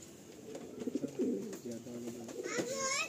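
Pigeons coo softly and repeatedly in a loft during a full-loft pigeon sale in Baruipur, low rolling calls layered close together with faint background chatter and a brief higher chirp near the end.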